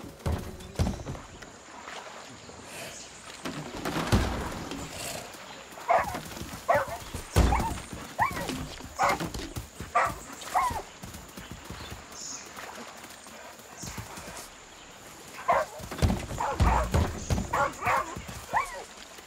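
A dog in the Far Cry 6 video game gives short yips, barks and whimpers at irregular moments, mixed with clip-clopping hooves and rustling game sounds, at moderate loudness.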